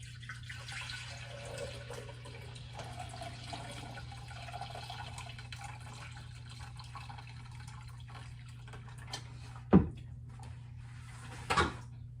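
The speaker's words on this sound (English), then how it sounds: "So let me just pour a little water in here." Water poured into a vase for a summer flower arrangement, a faint trickle under a steady low hum, ending with two short, sharp knocks near the end.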